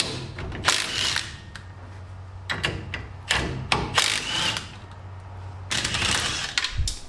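A socket wrench works loose hardware on a 1959 Plymouth. Bursts of mechanical ratcheting and whirring come in several separate runs with pauses between them, along with metallic clicks and a low hum underneath.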